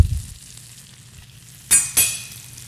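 Salmon browning in butter in a pan gives a soft, steady sizzle, then two sudden loud spitting bursts close together as the fish is disturbed.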